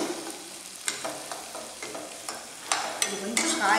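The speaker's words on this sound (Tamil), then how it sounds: "நல்லா வதங்கிடுச்சு இன்னமும் நல்லா இருக்கு வதங்கணும் வதங்கினா டேஸ்ட் ஆகும்" Onions and tomatoes being sautéed and stirred in a pan for Tamil-style rasam: a steady close sizzle with repeated scraping spoon strokes, with no talking.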